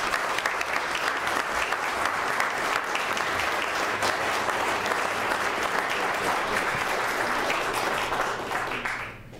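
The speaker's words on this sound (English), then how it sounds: "I don't want you to lose your time with someone applauding for someone else" Sustained applause from an audience at a city council public comment session, dense steady clapping filling the room from start to finish, with no talk over it.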